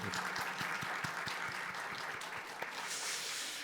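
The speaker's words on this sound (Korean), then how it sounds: "우리 금요 찬양팀에게 격려의 박수." A church congregation applauds its Friday worship praise team, with steady scattered clapping from many hands, a few sharper individual claps standing out and a faint low hum beneath.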